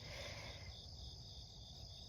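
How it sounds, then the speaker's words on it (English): A steady, high-pitched chorus of crickets trilling continuously outdoors at dawn on a Southern summer morning, with a soft rumble underneath and no talking. "I'm sure you can hear the birds chirping and the crickets."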